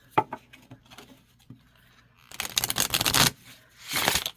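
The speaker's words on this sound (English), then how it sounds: "Yeah, you can kind of riffle shuffle." A deck of tarot or oracle cards (Hydesville Tarot, Citadel Oracle) is riffle shuffled close by. A few soft taps and handling sounds come first, then a crisp fluttering burst of cards riffling, and a second shorter shuffle follows.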